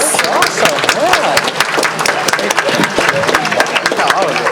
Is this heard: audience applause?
yes